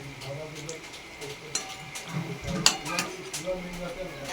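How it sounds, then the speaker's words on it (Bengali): Singaras frying in hot oil give a soft sizzle beneath clinking utensil and pan sounds, with a few sharper knocks; a voice talks over it. "এখানে ভাজতে দিয়েছি তেলে"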